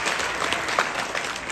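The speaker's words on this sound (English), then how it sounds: "I want you guys to please give your kids a round of applause" Parents and peers applaud children after their elective presentations, a loud, dense burst of crowd clapping that carries on without pause.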